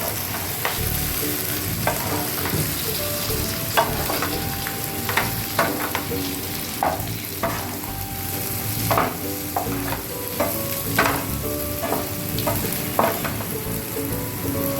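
Stuffed bell peppers, Varhadi style, steam and sizzle in a pan with a steady loud hiss and scattered crackles and pops throughout, close up and continuous.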